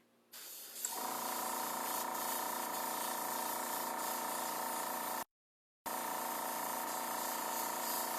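Createx paint spraying from an airbrush for a Godzilla wallhanger paint job, a steady close hiss that begins abruptly, runs unbroken, cuts out for about half a second, then resumes at the same level.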